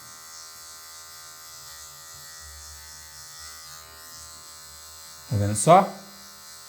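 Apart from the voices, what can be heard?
electric hair clipper cutting hair for a fade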